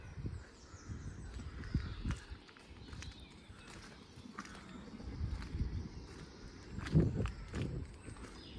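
Wind buffets the microphone outdoors at a coastal bird-watching spot on the Isle of Wight, giving uneven low rumbling gusts that rise and fall throughout, with faint scattered ticks and bird chirps above.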